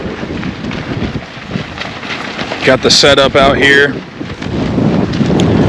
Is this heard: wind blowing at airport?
yes